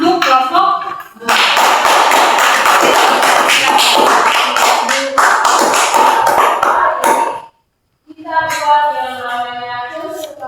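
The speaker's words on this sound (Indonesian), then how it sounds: "kita beri tepuk tangan untuk kelompok 2" Classroom of students applauding a group, with several seconds of steady, dense clapping. Voices speak briefly before the clapping, and a voice talks after a short pause.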